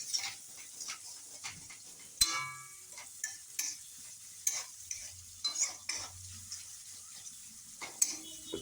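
Onions browning in a pan for a fig curry, with a soft sizzle under intermittent scraping stirs and occasional sharp knocks of the utensil against the pan.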